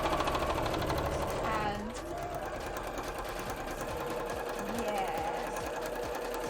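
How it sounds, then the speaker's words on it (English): Sewing machine stitching up a fabric tube for an Emilia cosplay dress, running in a steady buzzing whir with brief pauses, with a person speaking briefly over it. "Now we're just gonna sew this tube up."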